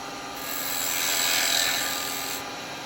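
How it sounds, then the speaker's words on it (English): Woodturning lathe with a tool back hollowing a small wooden pot, giving a steady close whirring scrape that swells slightly in the middle and then eases, with no voices. "you can do your little bit of back hollowing on it."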